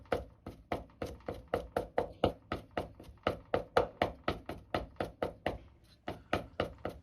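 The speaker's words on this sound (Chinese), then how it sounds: "再来准备一些生姜和大蒜，先拍破再剁碎" A knife chopping smashed ginger and garlic on a board, giving quick, even, near knocks in a steady rhythm of around three per second, with a brief pause before the chopping resumes.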